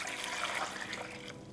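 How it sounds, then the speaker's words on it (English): Water trickles and splashes into a small pot over tomatoes, a serrano and de arbol chiles, a soft continuous pour heard close up without speech. "We're going to cover them with water."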